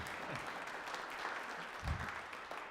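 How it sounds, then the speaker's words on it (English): Applause from a seminar audience for teacher education participants, a soft, distant patter of many hands clapping steadily, with a brief low thump near the middle and no talk over it. "let's clap for those people that we haven't clapped for"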